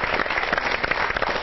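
Studio audience applause welcoming a poet onto a televised comedy election show, a short burst of dense, moderately loud clapping.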